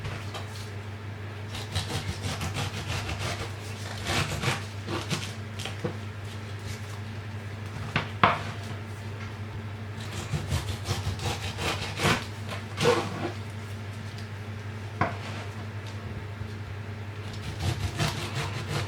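A knife saws through pineapple in repeated rough, scraping strokes, close and fairly quiet over a steady background hum, no one speaking.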